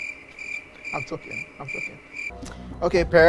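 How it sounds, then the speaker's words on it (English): A steady high cricket chirp, played as a sound effect, trills continuously under people talking before cutting off into louder speech. "Don't put any cricket sound."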